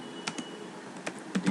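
A few sparse keystrokes on a computer keyboard while entering a short label, faint clicks scattered with pauses between them in a quiet room.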